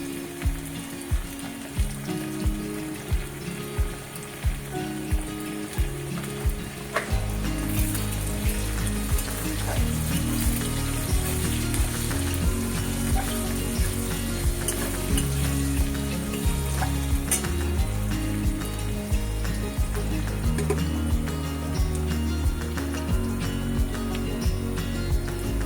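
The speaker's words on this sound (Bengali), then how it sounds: "পেঁয়াজটা একটু লাল করে ভাজবো।" Onions frying in a pan with a pinch of salt while being browned, a loud, continuous crackling sizzle with regular tapping stirs at first, then a fuller steady hiss, close up and with no talking.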